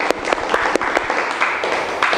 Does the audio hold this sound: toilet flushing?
no